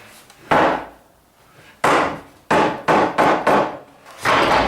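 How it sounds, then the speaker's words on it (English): Rubber mallet beating on glued wooden desk joints: about seven loud, close, hollow thumps, first spaced out and then in a quicker cluster, each with a short woody ring. "I got a rubber mallet and I'm just going to beat on it a little bit."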